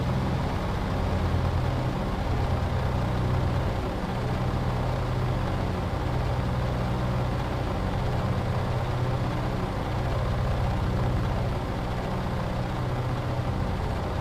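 The engine of a P-38L Lightning in Microsoft Flight Simulator drones steadily, a dense low rumble that holds constant throughout without pauses or voices.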